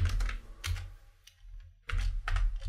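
Someone types HTML code on a computer keyboard: close, clustered clicks in two bursts separated by a short pause.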